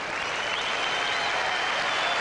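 Tennis crowd at the 1991 U.S. Open quarterfinal, Jimmy Connors versus Paul Haarhuis, applauding in a dense, steady roar of clapping that holds throughout.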